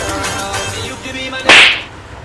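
A sharp slap lands during a street prank, one loud, crisp smack rising out of steady background noise and faint voices.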